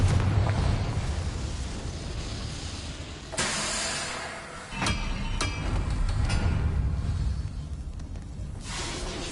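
A fiery Confringo curse bursts in Hogwarts Legacy, loud blasts cracking out over a rumbling game backdrop, with a sharp explosion midway followed by further crackling bursts.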